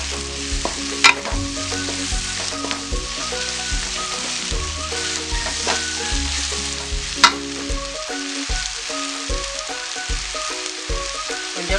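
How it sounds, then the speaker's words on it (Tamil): A spatula stirs sliced onions and ginger garlic paste in a hot pan for quail gravy, giving steady scraping and sizzling that runs close and continuous, with a few sharper knocks against the pan. "நல்லா வெங்காயம் வெந்த பிறகு இஞ்சி பூண்டு பேஸ்ட்டையும் அதை போடணும். போட்டு நல்லா கிண்டி விடணும்."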